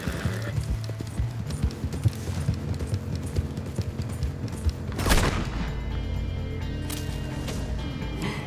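A horse gallops in the video game Red Dead Redemption 2 with steady hoofbeats and a whinny. A burst of gunfire sounds midway, then more shots over a busy game background.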